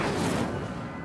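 A fire spell is cast in a Harry Potter video game: one loud, full-bodied burst of flame that roars across the whole second and fades only slightly toward the end, with no voices.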